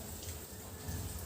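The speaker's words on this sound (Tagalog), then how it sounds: "We need to shower this in order to really clean the wound of our patient." Water running steadily as it rinses a patient's wound during wound care, a soft, continuous faucet-like wash heard up close and fairly quiet, with no talking.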